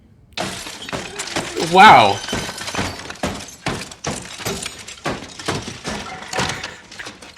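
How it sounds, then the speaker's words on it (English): A hammer smashes a puzzle box in a movie scene from Glass Onion, a sharp shattering crash standing out once amid steady talk and reactions from viewers. "He put so much effort into making that puzzle box and she just smashed it."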